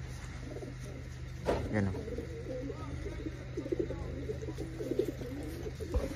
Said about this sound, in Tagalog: So ayun mga kalapatis,